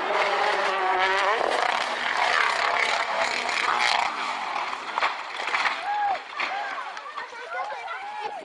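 Audi Quattro rally car on a Rally 1 stage, its engine roaring loud and steady with rising and falling revs, fading somewhat toward the end while someone talks over it.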